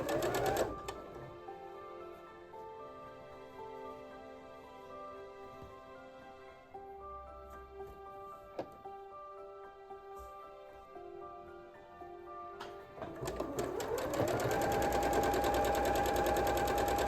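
A sewing machine pieces a quilt block, stitching with a steady, close mechanical whir that runs continuously, pauses briefly, then picks up again louder toward the end.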